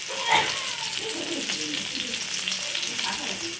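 Pointed gourd fries in hot oil in a pan with a dense, continuous sizzle and crackle, steady and close throughout.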